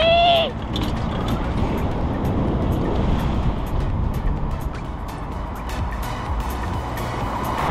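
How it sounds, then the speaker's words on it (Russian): A bus rumbles past close by, its low engine noise filling the street before fading into steady traffic hum. "тут автобус шумахер некий."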